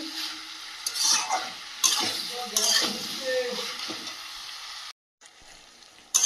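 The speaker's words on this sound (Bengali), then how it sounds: "এই পর্যায়ে ভেজে রাখা আলুগুলো দিয়ে দেব, দিয়ে আবারও কষাতে থাকবো" Meat and fried potatoes stir-fried in a pan, with a spatula scraping and stirring in irregular bursts over a steady frying sizzle, fairly close; a brief gap of silence near the end.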